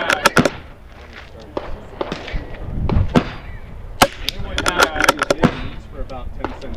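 Sharp cracks of a CZ 457 MTR rifle and other rimfire shots ring out at an NRL22 Base Class match at an outdoor range, several reports scattered irregularly at varying distances with people talking in the background.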